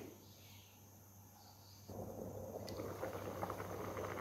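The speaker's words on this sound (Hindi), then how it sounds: "फ्लेम को हाई रखेंगे और ढक कर तकरीबन 5 मिनट तक हाई फ्लेम पर बॉयल होने देंगे" Rice sticks boil in a covered pot over a high flame, a faint hiss that swells into louder, steady bubbling partway through.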